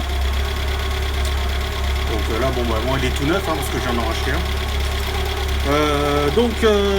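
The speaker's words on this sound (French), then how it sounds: "Je vais couper la voiture, puisque le faire en pression oui, mais pas avec le moteur qui tourne." A Citroën BX engine idles with a steady low hum and vibration that runs throughout, while someone speaks over it in French.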